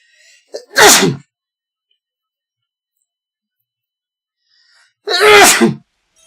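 Two separate loud sneezes, each a sharp inhaled catch followed by a forceful burst, spaced about four seconds apart with near silence between them, close to the listener.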